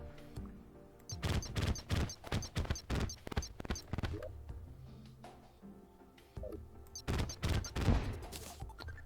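A gun fires splitting bullets in modded Terraria, a rapid rattling volley of sharp retro-game shots in two long bursts separated by a brief lull, close and punchy.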